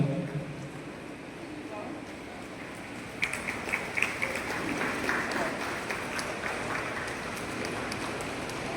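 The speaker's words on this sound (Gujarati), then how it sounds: "આપણે સૌ તાળીઓના ગળગળાટથી એમને વધાવશું" Audience applause greets an honoured guest at a felicitation ceremony in Agrasen Bhavan, Songadh; broadband clapping swells from about three seconds in and continues steadily over a murmuring crowd.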